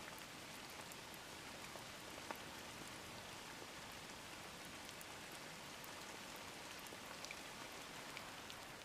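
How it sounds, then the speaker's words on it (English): Steady rain falls around a cabin, a dense even hiss with scattered louder drops ticking through it, continuous and unchanging, with no voices. "The rain keeps raining, far from being finished."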